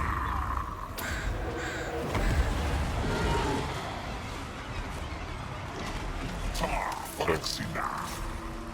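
Crows caw from a crow storm spell in the video game Total War: Warhammer 2 over a dense, noisy wash of battle sound, with scattered caws and whooshes throughout.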